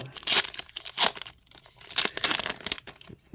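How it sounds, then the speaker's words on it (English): Foil Tim Hortons hockey card packs being ripped open by hand, several sharp tearing and crinkling bursts in quick succession, close and fairly loud, with brief pauses between rips. "I'm just going to take from the top and rip them as we go"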